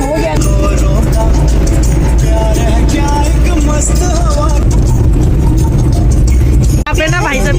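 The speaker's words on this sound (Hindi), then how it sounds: "यहाँ पे ना भाई साहब के टायर की आवाज निकल रही है।" Road noise from a car's tyres is heard from inside the moving vehicle, a loud continuous low rumble and roar with music playing over it.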